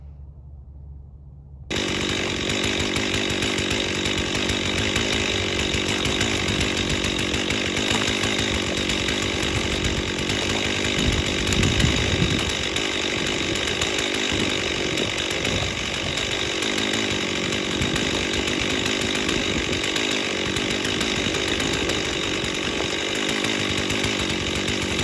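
A Stihl 036 Pro chainsaw runs loud and continuous after a short quiet start, cutting into black walnut with a steady high-revving whine that surges briefly midway, with no talking.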